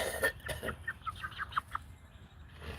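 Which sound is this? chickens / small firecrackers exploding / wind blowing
chickens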